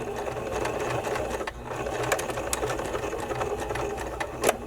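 Sewing machine running a straight stitch along bra neckline trim, a steady continuous mechanical whir with a brief pause partway through and a few small clicks, close and alone with no talking.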